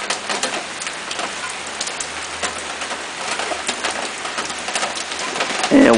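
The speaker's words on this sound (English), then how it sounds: "Fake rain, fake wind, fake tropical storm" Artificial rain from a simulated tropical storm hisses steadily and loudly, with scattered drops and brief bird-like coos over a low rumble.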